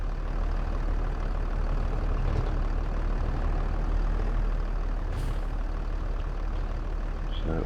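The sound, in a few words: tractor engine pulling a load in video game Farming Simulator 22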